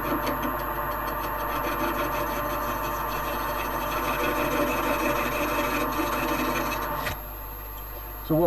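A lathe gouge cuts a recess into a huge rotten wood bowl, giving a steady rasping, rubbing scrape over the motor hum for about seven seconds before stopping abruptly and leaving a quieter hum.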